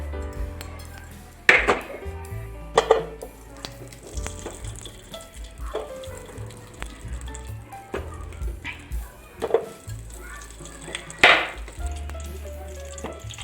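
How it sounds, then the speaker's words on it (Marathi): Ghee goes into a hot kadhai for carrot halwa, sizzling and frying with several sharp metallic clinks of a utensil against the pan. "सर्वप्रथम मी इथे तुपा कढईमध्ये तूप टाकणार आहे"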